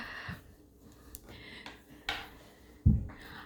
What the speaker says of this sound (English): what you're hearing is the knitting needles hitting off of my table